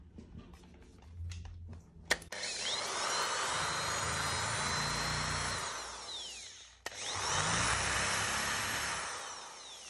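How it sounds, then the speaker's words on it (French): A drill-driver grinds against a phone screen protector in two long loud bursts, each starting abruptly after a brief sharp crack, with quieter handling noises before the first run. "Nous allons maintenant terminer le test avec une visseuse perceuse."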